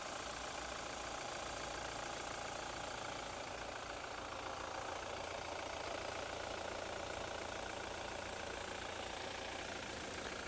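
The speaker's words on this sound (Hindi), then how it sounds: "ये इसका साउंड है आइडियल पे इंजन" A 2026 Toyota Fortuner Hybrid SUV's petrol engine idles steadily with a low, even rumble and faint ticking, continuous and fairly quiet.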